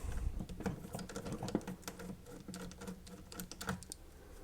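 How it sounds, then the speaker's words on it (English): Three bolts are worked loose from a Zenith 9H985 radio chassis, giving faint, quick, irregular metallic clicks and small scrapes close by with no talking. "Now we can remove these 3 bolts and the whole thing should come off."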